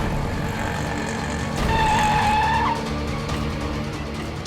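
An auto rickshaw pulls up with loud skidding tires, a close engine roar under a sustained squeal that peaks midway before settling back into rumbling. No one speaks.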